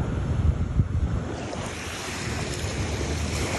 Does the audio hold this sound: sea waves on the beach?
yes